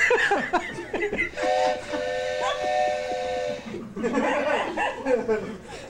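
A comedian at a stand-up comedy show imitates a steam train whistle with a long wavering hoot, set between bursts of audience chatter and laughter nearby.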